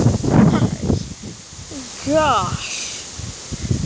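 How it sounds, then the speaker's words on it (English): Hurricane Harvey's strong winds rustle and whip through tree leaves, a gusting roar rising and falling while a person speaks and exclaims over it. "it's more windy than rainy."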